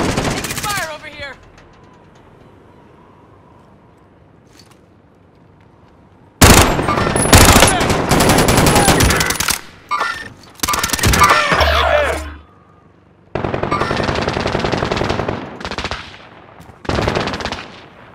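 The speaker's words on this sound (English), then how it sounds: "Taking fire over here." Video game gunfire in Call of Duty Warzone: loud bursts of automatic weapon fire come in several long sustained volleys separated by quiet gaps, with a brief voice at the start.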